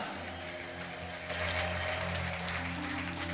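An Ethiopian church congregation applauding during a prophet's sermon, a dense, steady wash of clapping that swells slightly partway through, with a low sustained hum beneath and no speech.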